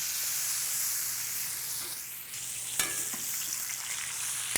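Butter sizzles and hisses steadily in a hot pan alongside a resting filet and a New York strip steak, with a brief spatter and a couple of sharp clicks partway through; no one speaks.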